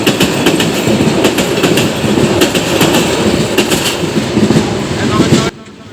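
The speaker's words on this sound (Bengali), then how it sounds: "ট্রেনের আগমন" A train rolls past on railway tracks nearby, its wheels clattering in a loud, rhythmic clickety-clack before the noise cuts off abruptly near the end.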